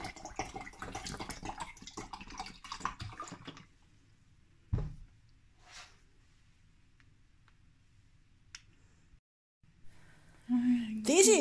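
Water poured into a blender jar holding pumpkin seeds for a smoothie, a few seconds of splashing, gurgling flow, then near silence with a couple of soft knocks and a brief whirring hum at the end.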